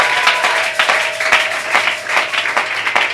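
Congregation applause and acclamations during a church worship service, a dense run of hand claps with sharp individual slaps over a steady crowd wash, lively and close for about three seconds.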